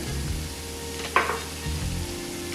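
Garlic cloves and softening vegetables for shepherd's pie frying in a pan, a steady close sizzle with a brief scrape or clatter of stirring midway, no talking.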